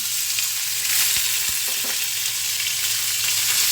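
Potatoes are tipped into hot oil with a scorched spice tempering and curry leaves, giving a continuous hissing sizzle with a few sharp clacks and scrapes as they land and shift in the pan.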